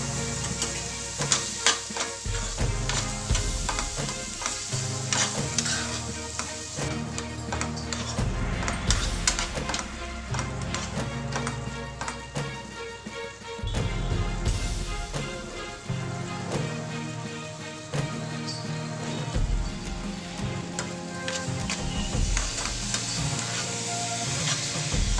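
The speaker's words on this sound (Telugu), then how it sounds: "బీరకాయ ముక్కల్లో పసుపు వేసి మూత పెట్టి బాగా మగ్గనివ్వాలి." Ridge gourd pieces with turmeric sizzle and crackle in a pan, a busy, fairly loud cooking hiss with scraping stir sounds and clatter over a long stretch, no voices.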